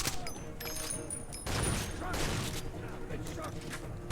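Grenade blast and gunfire in the Far Cry 2 shooter, a burst of heavy thumps and crackling shots around the middle over a busy game soundscape, with sporadic bangs before and after.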